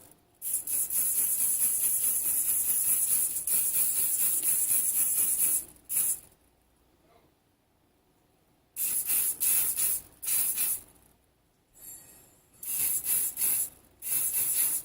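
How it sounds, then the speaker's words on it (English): Cheap Dollar Tree hairspray sprays from an aerosol can in a long, loud hiss, then several shorter bursts after a pause, close to the microphone. "I can probably spray it with a little bit of hairspray."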